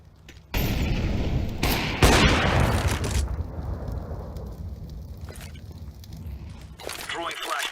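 Gunfire and a flashbang grenade in a video game: loud, dense bursts of shots and booming blasts that swell, fade and return, with a voice speaking over the action.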